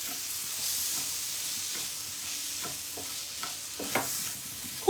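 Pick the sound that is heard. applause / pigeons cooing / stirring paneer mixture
stirring paneer mixture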